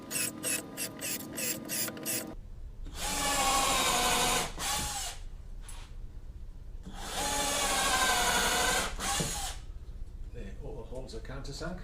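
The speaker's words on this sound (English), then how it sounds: "now we'll just countersink the holes" Power drill countersinking pilot holes in recycled pallet wood for a planter box, with two sustained whirring bursts of several seconds each, close and loud, between brief clicks and handling noises.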